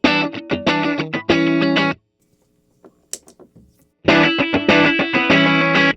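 Chunky electric guitar chords through a JHS Whitey Tighty compressor pedal, strummed in punchy rhythmic bursts with an even, squeezed level, then a brief pause with faint handling noise, and the strumming returns.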